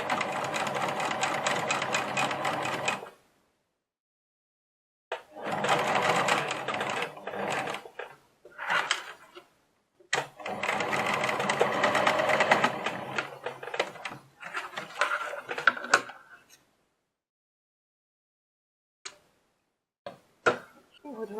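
A domestic sewing machine stitches a key holder in several bursts of fast, rattling whirring, each lasting a few seconds and split by silent pauses, ending in short isolated clicks.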